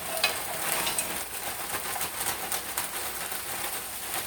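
Frozen green beans sizzle in a hot pan with a steady, crackling fry that stays even throughout, with no distinct impact from the dump.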